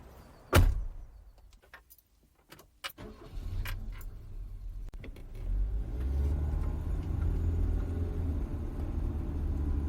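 Car door thuds and clicks close by, then the engine starts and settles into a low, steady rumble as the car pulls away, with no talking.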